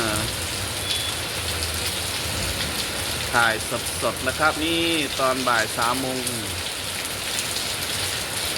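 Heavy rain pours down in a dense, steady hiss, with someone talking briefly over the downpour midway.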